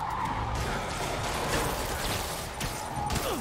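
Tires skid and squeal during a multi-vehicle car chase in Spider-Man Remastered, a dense, continuous screech of sliding rubber over engine rumble and game noise, steady and loud throughout with no talking.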